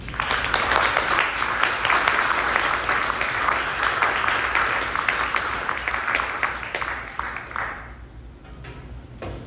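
An audience at a poetry reading claps to welcome poet Traci O'Dea, a dense sustained round of applause that fades out near the end.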